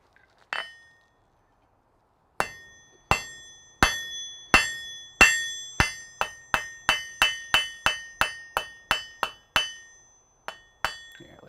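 A blacksmith in a smithy strikes metal with a hammer: a single ringing blow, a pause, then a steady run of about twenty sharp, clanging hits with bright metallic ring, close and loud, with no talk.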